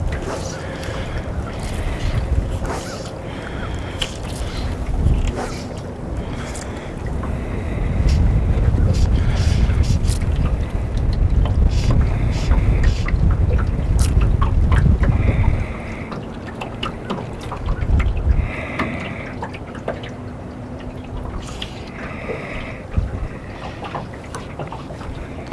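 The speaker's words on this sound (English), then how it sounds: "There's quite a heavy wind blowing" Heavy wind blowing down a lake outdoors during a fishing outing, a loud continuous rush and buffeting across the microphone, swelling in strong gusts with someone talking throughout.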